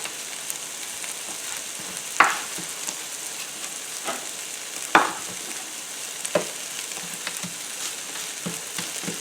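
Peppers and onions sizzling in a pan, with a steady close fry punctuated by a few sharp clatters as they are stirred or added.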